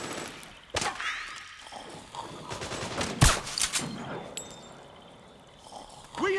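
Bursts of gunfire, sharp single shots and rattling volleys, ring out during a Metal Gear Solid 4 battle, with shouted voices between the shots.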